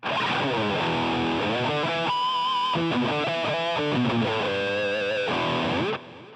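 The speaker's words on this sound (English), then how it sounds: "I am currently using an MS high gain, which is a Marshall high gain sound" Heavily distorted electric guitar through a BOSS GT-8 on its Marshall high-gain amp model plays a loud, sustained riff of chords and single notes, ringing alone for about six seconds before stopping abruptly.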